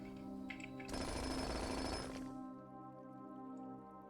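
Jackhammer digging in the Blue Prince video game, a loud burst of dense rattling noise lasting about a second and a half before dropping back to a quieter background.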